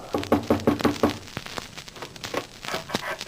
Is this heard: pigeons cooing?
no